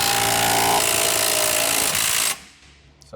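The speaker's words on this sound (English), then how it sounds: "So what we have is impact socket, impact gun on the bottom of the G-clamp." An impact gun hammers loudly on a socket at the bottom of a G-clamp, pressing a ball joint down into a cup; a sustained harsh rattling burst stops abruptly, leaving quiet.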